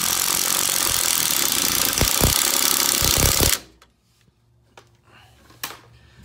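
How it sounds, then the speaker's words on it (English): Impact wrench loosening a coilover strut bolt on a 2016-2020 ND Miata, a loud sustained rattling burst that stops abruptly partway through, followed by quiet garage ticks and clinks. "we're gonna use the impact on the rest of it."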